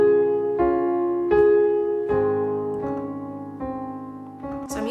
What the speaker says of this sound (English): Now at the end of the chorus, you have this beautiful chordal riff.